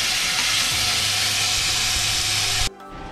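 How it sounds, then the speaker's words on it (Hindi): Sambhar ingredients fry in a pan with a loud, steady hiss of sizzling and a faint low hum, which cuts off abruptly near the end and leaves only quiet background. "इसे हम थोड़ा नरम होने तक अच्छे से थोड़ा भून के पकाएंगे फिर इसमें मसाला डालेंगे"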